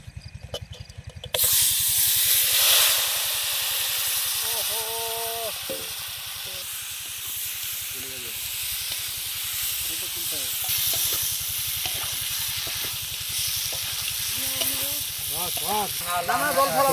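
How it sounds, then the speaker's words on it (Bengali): Marinated duck meat hits a hot pan in a winter home kitchen and sizzles loudly and steadily, with a broad frying hiss that continues throughout while a voice talks over it. "মাখিয়ে রাখা মাংসটা আমরা দিয়ে দেবো"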